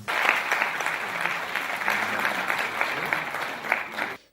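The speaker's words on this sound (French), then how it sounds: "C'est par ces acclamations que les députés ont adopté à l'unanimité le règlement de l'Assemblée nationale" Deputies in the National Assembly applaud by acclamation as the assembly's rules are adopted unanimously, a dense, steady roar of many hands clapping together that holds evenly, then stops abruptly.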